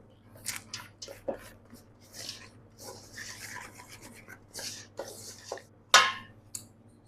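Tahini cookie dough with chocolate chips being stirred in a bowl, giving close, irregular scraping and squishing strokes with a few sharper clinks of the utensil against the bowl.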